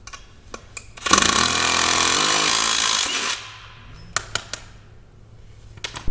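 A loud power tool whines steadily for about two seconds as it works old rusty bolts out of a John Deere planter, then spins down, followed by scattered metallic clanks and taps.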